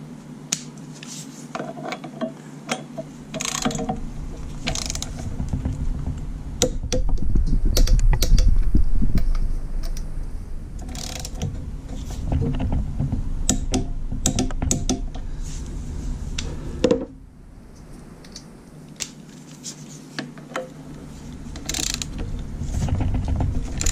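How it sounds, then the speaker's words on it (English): Rapid clicking of a ratcheting torque wrench set to 40 foot-pounds tightening motor mount bolts on a Jeep TJ, in steady close bursts with brief pauses and a few louder clunks. "So we're set to 40 foot-pounds, and we're going to go ahead and torque these down."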